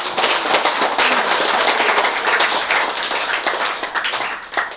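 Audience applause in a Korean lecture hall after a talk on cancer treatment, dense clapping from many hands, loud and close, holding steady for several seconds before thinning slightly.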